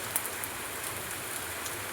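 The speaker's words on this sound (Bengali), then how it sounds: "আমি জলের মধ্যে দিয়ে হেঁটে যাচ্ছি, আর বৃষ্টি হচ্ছে" Rain falls steadily outside a home where water has pooled in front, a soft, even hiss with scattered faint droplet taps and no voices.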